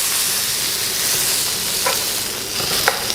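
Steady loud sizzling and crackling of pork neck frying in rendered fat in a hot pan, with a few sharper pops and a faint scrape of stirring.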